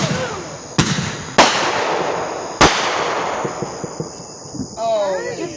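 Fireworks let off all at once, heard through a played-back recording: a few sharp loud bangs over a dense crackling wash, with excited voices and whistling streaks near the end.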